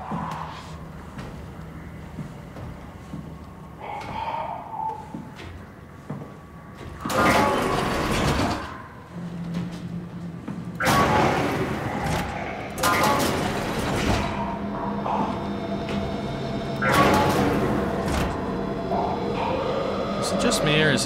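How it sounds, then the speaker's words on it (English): Heavy mechanical doors slide and shut in the underwater sci-fi horror game SOMA, coming as several loud, broadband whooshing and clanking bursts spaced a few seconds apart over a low ambient drone, with a voice talking faintly at times. "Is he actually hearing these doors shutting?"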